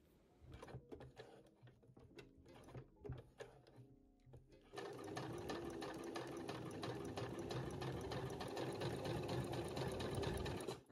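Sewing machine stitching green merino wool polo shirt fabric, starting with short intermittent bursts and then settling into a steady, fast, rhythmic running hum, close and moderately quiet.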